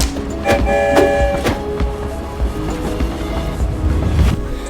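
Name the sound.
train ride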